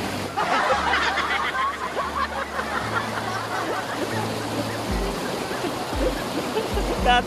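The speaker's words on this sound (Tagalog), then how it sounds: "Nakita nyo naman ang ganda ng Talon Pari, no?" Talon Pari waterfall in Bulacan rushing continuously, a broad steady roar of falling water with no letup.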